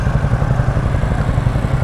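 A Yamaha R15 V3 motorcycle engine runs loud and close on a group ride, with a steady, rapidly pulsing mid-range drone and no talk over it.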